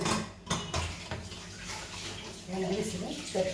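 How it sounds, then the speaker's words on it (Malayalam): A glass of water poured into a pressure cooker holding lentils and jackfruit seeds makes a brief gushing splash alongside light metallic clinks, close up, with a voice talking over it. "ഒരു ഗ്ലാസ് വെള്ളം ഒഴിക്കാം."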